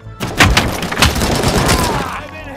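Rapid gunshots in RoboCop Rogue City blast through panels: a dense, loud burst of booming shots and impact thuds lasting a couple of seconds, with a voice speaking over the firing.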